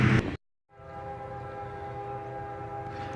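Train crossing a bridge, a steady heavy rumble with sustained tonal ringing like a horn or squeal, after a brief abrupt cut, continuing evenly and fairly near with no voices.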